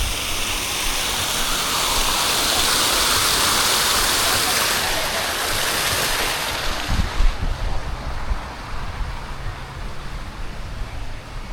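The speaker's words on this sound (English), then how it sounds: "Here you can just play the water." Water splashes and rushes steadily in a small garden water feature inside a park, a loud, close, continuous wash that thins toward the end.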